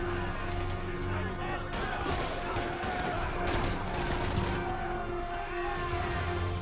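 Scattered gunfire between police and inmates at a barricade in Marvel's Spider-Man Remastered pops in quick overlapping volleys beneath steady game music, with someone talking over the exchange.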